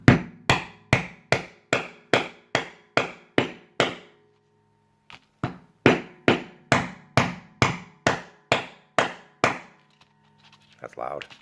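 Close, loud knocks from a rubber hammer driving a part into a table yarn winder come in two rapid runs of evenly spaced blows separated by a short pause, followed by faint handling noise.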